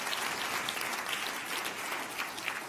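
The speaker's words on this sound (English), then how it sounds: "Another round of applause, please" A conference audience at a food startup pitch event claps steadily, a dense even patter of applause heard somewhat distantly throughout.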